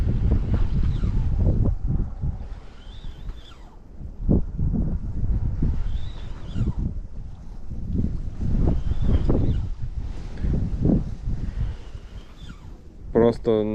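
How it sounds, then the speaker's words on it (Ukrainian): Strong wind buffets the microphone in heavy gusts and rumbles while fishing for zander, with a person talking intermittently over the roar. "Вітер такий, що просто жесть."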